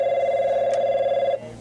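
A telephone at a customer support line rings with a single steady electronic trill, loud and close, cutting off abruptly near the end.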